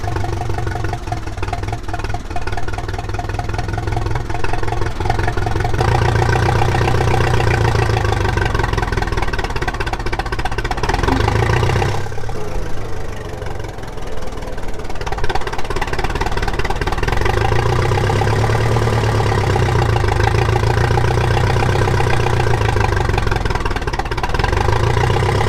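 A vehicle engine runs steadily at moderate revs in high range, second gear, with a rough, clattering drone that swells and dips, loud and close.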